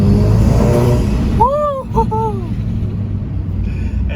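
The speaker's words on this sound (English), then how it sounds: "That's like partial throttle, not even getting on it fully, and you could just hear it spool up" Turbo spool from an IS38 turbocharger on a VW Golf GTI with an MST intake, heard from inside the cabin under partial throttle: a rising whistle that swoops up over steady engine rumble in two or three quick bursts.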